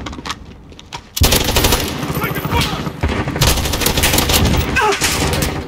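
A Bruen MK9 assault rifle in a video game opens up after a quieter second and keeps firing in fast, loud, continuous automatic bursts, with a voice talking underneath.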